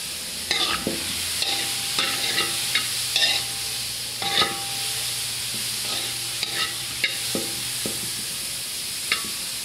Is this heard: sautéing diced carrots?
yes